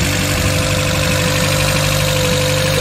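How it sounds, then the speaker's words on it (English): A Toyota Corolla EE90 with a 2E engine idles high on a cold start, a loud, steady mechanical drone with constant vibration and no variation over nearly three seconds. "The idling's up high."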